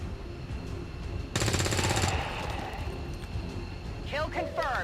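A burst of automatic gunfire in the XCOM 2 video game, a short rapid rattle of shots lasting under a second over steady background game ambience.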